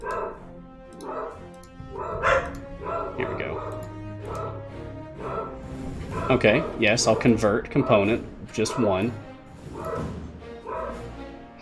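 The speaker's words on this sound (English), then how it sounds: "So dogs are going crazy." Neighbors' dogs barking in repeated bursts and yips in the background, growing busier midway, under someone talking close to the microphone.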